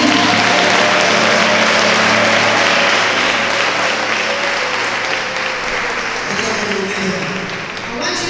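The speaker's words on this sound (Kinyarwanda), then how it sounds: "ndagira ngo mubakomere amashyi clap for them." Applause from a church congregation at a pastors' installation service in a worship centre, broad steady clapping filling the room for several seconds, with some voices and background music underneath, tapering slightly near the end.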